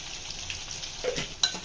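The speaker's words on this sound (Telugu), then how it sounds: "ఆయిల్లో మగ్గిన తర్వాత పసుపు యాడ్ చేసుకుంటున్నాను." Turmeric stirred into hot oil with cucumber pieces in a pan, a steady close sizzle and frying hiss with scraping stir strokes and a sharp clink near the end, no voices.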